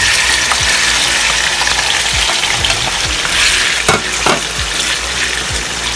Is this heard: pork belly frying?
yes